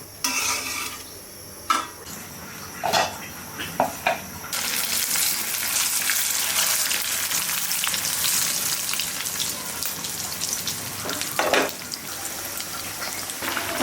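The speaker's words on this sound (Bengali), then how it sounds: "আর এক চুলায় রোস্ট গরম দিয়ে দিই।" Beef curry roast heating in a pan on a stove, a steady loud sizzle and crackle that swells and holds after a few opening clatters of the pan, alone without talk.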